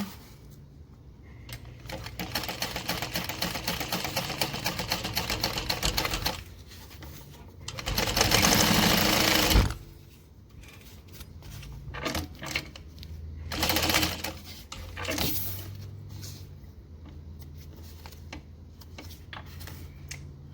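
Sewing machine running a final line of stitching on a fabric card wallet, a close, steady rapid whir that stops and restarts in a few bursts, with short clicks and handling noises between runs.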